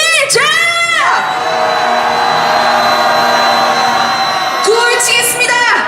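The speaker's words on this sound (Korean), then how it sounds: "분노의 함성 한번 질러보겠습니다" A protest crowd at a street rally calling for a president's impeachment lets out a loud, angry roaring shout, a sustained mass yell with whoops rising over it.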